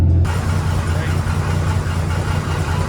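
A 1954 International pickup truck engine cranks and catches after a brief quiet start, then settles into a steady, loud, rumbling idle up close for the rest of the moment.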